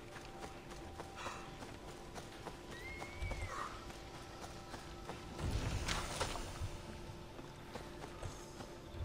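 Faint in-game horse hoofbeats clip-clop under a steady hum in Assassin's Creed Odyssey, with a short whinny partway through and a louder burst of noise later.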